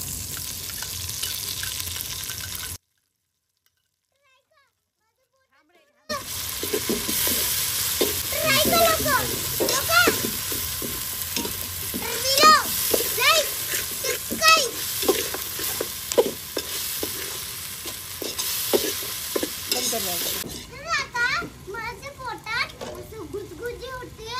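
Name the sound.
masala with ginger garlic paste sizzling as it is sautéed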